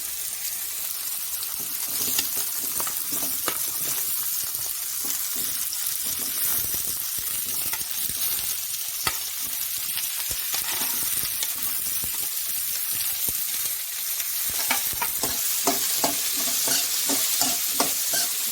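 Steady sizzling of onions and capsicum frying in a hot pan, with scraping stirs throughout and no talking.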